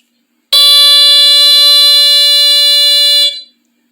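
A Smokeguard 805A smoke detector sounds a single continuous piercing electronic tone for about three seconds, very loud and close, starting abruptly and cutting off, with no talking.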